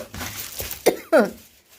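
Two short, sharp coughs from a person with an irritated throat, close and distinct, following a moment of low background murmur.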